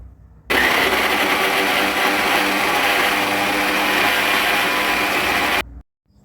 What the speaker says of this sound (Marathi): एका मिक्सरच्या भांड्यामध्ये एक वाटी बेसन पीठ आणि त्याच वाटीने मोजून पुन्हा एक वाटी पाणी घालायचं पाव चमचा हळद घालायची आणि हे मिक्सरला फिरवून घ्यायचे